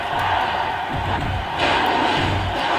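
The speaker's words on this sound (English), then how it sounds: "The American Dream, Dusty Rhodes, got a standing ovation from the crowd for his efforts." A packed wrestling arena crowd roars in a sustained, dense wall of cheering and applause for a standing ovation, loud and continuous with no break.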